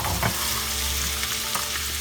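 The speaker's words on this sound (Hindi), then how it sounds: "अभी हमें जिंजर गार्लिक फ्राई करना है।" Ginger and garlic frying in sesame oil in a wok over medium-high flame, giving a steady close sizzle with a couple of stirring scrapes and no talk.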